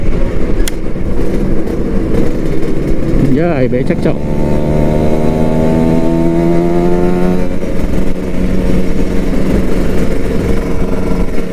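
A Kawasaki Ninja RR motorcycle engine drones loudly at speed, its pitch climbing through a rising rev before it levels off into a constant roar, while someone talks over it.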